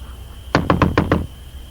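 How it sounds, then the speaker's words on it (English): Knocking on a wooden house door as a sound effect: five quick, evenly spaced knocks, close and clear, with no voices. "He knocked at Peter's door."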